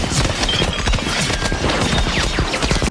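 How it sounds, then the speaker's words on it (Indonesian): Dense volley of rapid gunfire from a wartime battle scene of the film Saving Private Ryan, with loud overlapping shots crackling continuously and close for the whole stretch. "Akhirnya berundungan senjata pun menghujani tentara Jerman itu."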